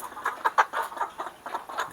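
Free-range village chickens in a galvanized battery cage cluck repeatedly in short, uneven bursts, fairly close and moderately loud, with no talking.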